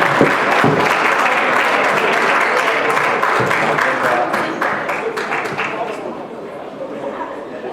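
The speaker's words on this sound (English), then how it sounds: "We need a ground applause for him." An audience at an expo ceremony gives a colleague a round of applause, dense clapping with a few sharp individual claps standing out, gradually thinning and fading over several seconds while murmured chatter carries underneath.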